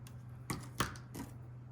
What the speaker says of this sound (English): Let me cut off a flat edge here.